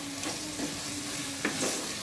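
Thedu fish curry is stirred in a pan, with a short burst of close scraping and a faint sizzle, two distinct spoon strokes standing out against a quiet, steady background.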